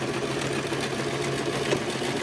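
Sewing machine running a straight stitch across a boxed bag corner, a steady, even mechanical hum that holds continuously at close range with no talk over it.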